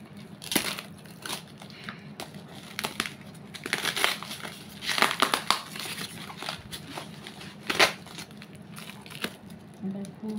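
A parcel's heavy packing is opened and unwrapped by hand, with close crinkling, crumpling and tearing of wrap in irregular bursts and sharper rips near the middle and end, and no talk.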